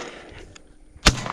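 A Winchester 101 XTR shotgun fires a single sharp, loud blast at a skeet target high over the trees, after a brief quiet outdoor pause.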